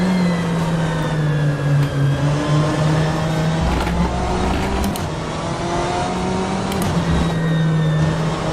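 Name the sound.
BMW M8 GTE race car engine at Road America, rFactor 2 video game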